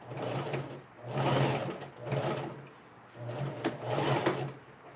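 Sewing machine stitching Ankara fabric along a curved seam for a simple summer top, running in several bursts of steady mechanical whirring with short pauses between them, close and clear with no talking.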